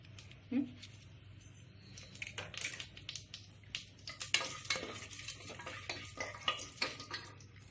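Green chilies are stirred and sizzling in a pan for beetroot pulao, with soft frying crackle and scraping stirring strokes under occasional quiet speech.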